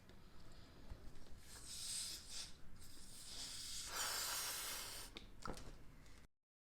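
Air hisses in long, breathy rushes as a balloon is inflated, with a few shorter puffs near the end before it stops abruptly, close and fairly quiet.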